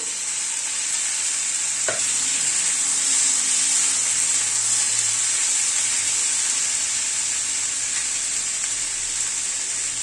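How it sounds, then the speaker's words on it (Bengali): Chopped onion and tomato fry in a pan with a steady, bright sizzle and occasional stirring. A sharp utensil knock sounds near the start, and no one speaks. "পেঁয়াজটাকে এই মিনিট 2 সময় ধরে হালকা করে একটু ভেজে নিলাম। এখানে দুটো টমেটো কুচিয়ে নিয়েছি, টমেটোটা দিয়ে দিলাম।"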